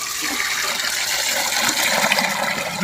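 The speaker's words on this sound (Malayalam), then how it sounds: "നന്നായിട്ടൊന്ന് കഴുകിയെടുക്കാം" Chicken pieces rinsed under a steady stream of running tap water while preparing Kerala-style bucket chicken, a continuous close splashing gush with no voices.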